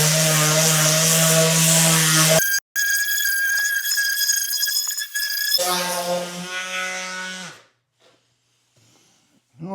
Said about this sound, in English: I'm going to go ahead and sand the actual table